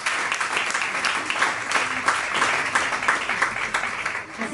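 Audience applause at a talk featuring paper folding and magic, a full steady clatter of many people clapping for several seconds, loud and even before tapering slightly at the end.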